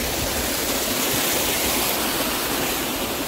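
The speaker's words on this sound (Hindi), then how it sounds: "तो ये देखो पानी की आवाज़ आ रही है" Small waterfall, Tiger Fall in Chakrata, roars as a steady, dense rush of falling water, loud and continuous throughout with no voices.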